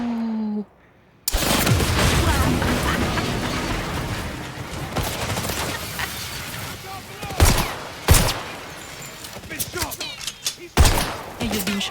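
Gunfire rattles in the video game First Light: dense, loud bursts of rapid shots that go on for several seconds, then thin out into separate sharp cracks and booms, with a voice talking over the action.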